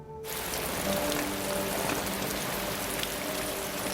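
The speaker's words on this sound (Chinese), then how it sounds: "下这么大雨" Heavy rain pours steadily and densely, a continuous close hiss of drops on surfaces that holds at an even, loud level from just after the start to the end, with no voices.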